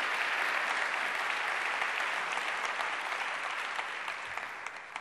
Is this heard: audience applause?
yes